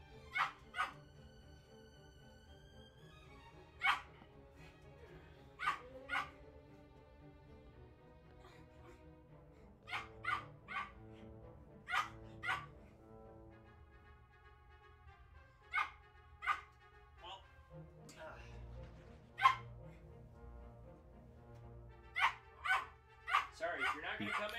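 Several short, sharp dog barks and yips scattered irregularly across a quiet indoor scene, moderately close, with a faint steady background hum and no talking.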